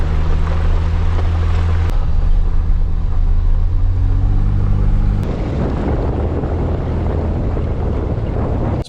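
Steady, loud road rumble and wind roar from a car driving through the small mountain town of Ophir, Colorado, at high altitude, a continuous drone with a slight shift in tone partway through.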